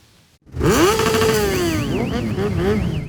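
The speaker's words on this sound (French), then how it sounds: "Moto, quad ou encore sidecar ont remplacé provisoirement le traîneau du Père Noël à Vitry-le-François." Motorcycles, quads and sidecars in a parade at Vitry-le-François, a loud engine revving up then droning with wavering pitch, close by, with a faint second engine and crowd noise beneath.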